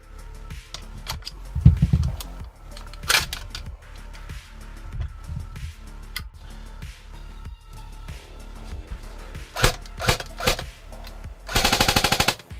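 PTS Masada rifles are test fired outdoors: a string of sharp, loud single shots at irregular intervals, ending in a rapid burst near the end, with faint voices between shots.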